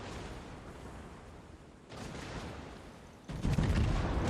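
Naval guns fire from warships in World of Warships, with a battleship Missouri in play. Heavy booming blasts rumble at a distance, and a louder, closer salvo lands near the end.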